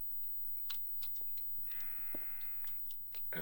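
A single drawn-out goat bleat from a video game, buzzy and wavering in tone, rises over quiet game background noise, with faint clicks and ticks around it.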